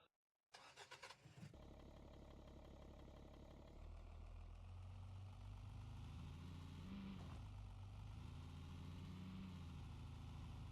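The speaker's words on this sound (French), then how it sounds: "c'est vrai que le son des voitures" A car engine in the video game Car for Sale Simulator 2023 cranks, catches and settles into a steady idle, then rises slightly to a higher, even hum.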